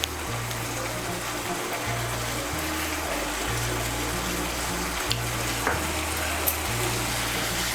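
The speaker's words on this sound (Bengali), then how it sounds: "মিশিয়ে নিয়ে মশলাটাকে ভালো করে কষিয়ে নেব" Spice masala sizzling in hot oil for soyabean kosha, a steady frying crackle with intermittent stirring scrapes and a low repeating hum underneath throughout.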